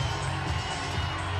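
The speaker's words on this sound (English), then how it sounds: "Record crowd into it here in Omaha." Home crowd at a record-attendance professional volleyball match in Omaha, a steady, dense roar of cheering and crowd noise filling the arena throughout, with no single voice standing out.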